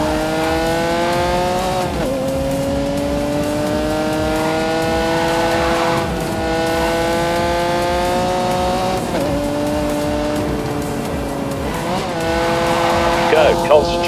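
A race car engine runs at full throttle in The Grand Tour game, a loud, steady high-revving drone that briefly drops during gear shifts every couple of seconds, with some tire squeal near the end.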